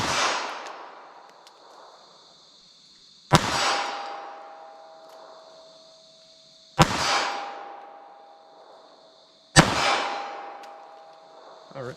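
A .32 ACP pocket pistol fired at a 25-yard target outdoors: four sharp, loud shots spaced about three seconds apart, each followed by a ringing decay that fades before the next.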